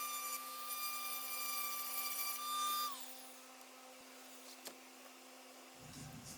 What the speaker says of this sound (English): I'm switching to a diamond-coated needle-point grinding bit to get down in that tight corner